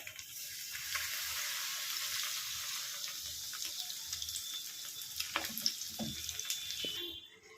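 Battered fish frying in hot oil in a wok, a steady bright sizzle with scattered crackles and pops, continuous and fairly close, fading near the end.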